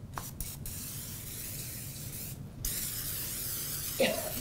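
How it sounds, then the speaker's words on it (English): Pan spray hisses from an aerosol can into a frying pan on the stovetop while making a steak quesadilla, a steady close spray lasting a few seconds with brief clicks and bursts at the start. "I'm supposed to put some pan spray in here."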